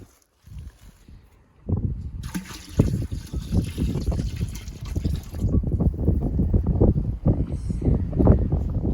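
Maple sap from five trees trickles and drips steadily into one big outdoor bucket, a dense, irregular patter of close drops that grows busier after a quiet start.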